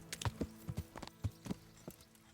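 Horse hooves clip-clop on the ground in the medieval video game Kingdom Come: Deliverance, a quick uneven run of hollow knocks close by that slows and fades near the end.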